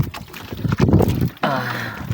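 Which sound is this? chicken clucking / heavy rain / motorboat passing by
motorboat passing by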